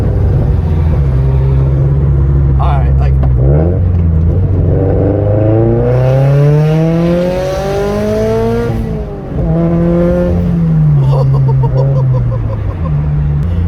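A turbocharged BRZ sports car with a loud Tomei 80R aftermarket exhaust idles with a deep rumble, then revs up hard and drops back, close by, with brief speech over it.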